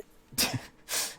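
A single sneeze bursts out during a tabletop fantasy roleplaying game session, with a sharp breathy onset followed by a second hissing burst, heard close and alone with no talk over it.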